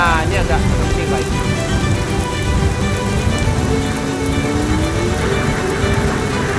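Steady, dense rain falls in the Assetto Corsa racing video game, a constant loud hiss with faint engine tones beneath.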